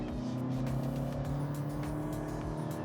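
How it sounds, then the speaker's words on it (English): A 2020 Toyota Camry hybrid with a CVT at full throttle in sport mode gives off a steady, droning engine whine that holds at a constant pitch without any gear changes, loud and close, with no talking. "you'll be able to hear what it sounds like when I floor it, and the ungodly noise that this CVT makes"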